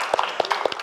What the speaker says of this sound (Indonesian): Boleh minta tepuk tangannya buat kita semua.